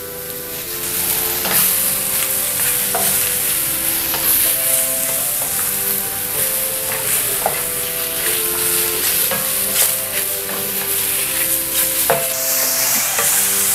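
Fresh mushrooms seasoned with salt and oregano stir-fry in a hot pan, giving a loud, steady sizzle with faint periodic scrapes of stirring, close up, with no voices.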